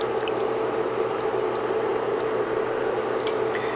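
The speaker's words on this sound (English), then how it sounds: "now that it's nice and hot, I'm going to add a tablespoon here of olive oil" A tablespoon of olive oil hits a hot wok and sizzles steadily: a close, even frying hiss with faint crackles and pops throughout, no talk.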